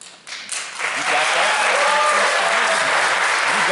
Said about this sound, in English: if I could ask people to hold their applause to the end of all the questioning